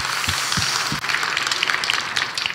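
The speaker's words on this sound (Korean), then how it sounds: "하나님께 영광의 박수 올립니다" Steady applause from a congregation at a church service, a dense even patter of many hands clapping throughout, with no voices over it.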